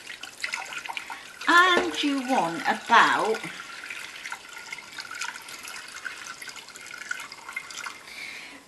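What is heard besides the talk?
water poured from a kettle into a pudding basin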